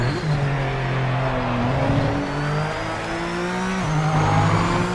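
A GT3 race car in a racing video game runs at high revs and steps down through the gears, the engine note dropping and climbing again in several distinct shifts, loud and steady with no talk.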